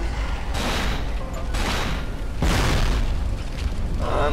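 Gunfire from a character shooting in the horror video game Cold Fear, a series of booming bursts and rapid repeated shots over a steady low rumble, with no talking.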